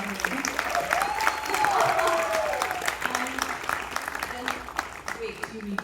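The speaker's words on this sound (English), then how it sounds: "A big round of applause for him." Applause from an audience at a stage play premiere in Mumbai, steady clapping filling the room for about six seconds, with a voice speaking faintly over it.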